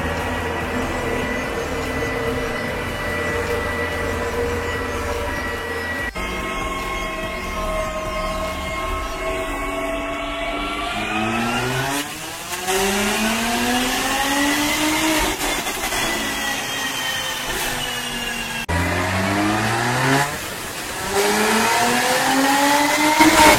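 A stage 2 ECU-remapped Mercedes-Benz C43 AMG rated at 440 hp revs hard on a dyno, its engine droning loudly and climbing in repeated pulls with rising whine, brief dips between runs and no talking.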